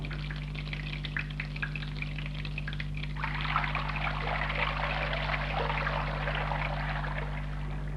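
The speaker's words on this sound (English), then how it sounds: "Train yourself to turn the cold water on first." Cold water running from a household tap, a steady splashing pour that starts soft and grows fuller partway through, over a constant low electrical hum, with no voices.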